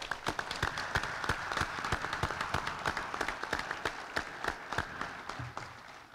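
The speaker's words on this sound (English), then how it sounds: "if you all would please join me in a round of applause for all." Applause from an audience at a US Army Alaska District change of command ceremony in 2015, a sustained patter of many hands with sharp individual claps standing out, moderately loud and steady before tapering at the end.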